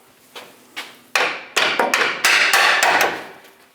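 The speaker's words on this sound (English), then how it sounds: "I'm going to use a punch to help me remove the bolts from my control arm." A punch is hammered to drive bolts out of a front lower control arm on a 2003-2025 Chevrolet Express, about eight sharp metallic blows that start light and grow louder, close and ringing briefly after each strike.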